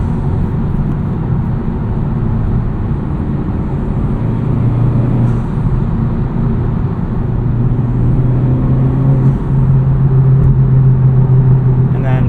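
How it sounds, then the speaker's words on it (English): 2023 Honda Civic Type R FL5 fitted with a Cobb carbon fiber intake, driven at quarter to mid throttle under boost; a steady, low engine drone and road rumble from inside the cabin, rising slightly toward the end. "Just rolling into it, you can hear the most boost at kind of quarter to mid throttle."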